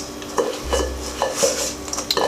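A spoon scrapes and knocks against a bowl while cookie dough with craisins is mixed, giving a few irregular clinks and scraping strokes, close and fairly quiet, with a brief low rumble partway through.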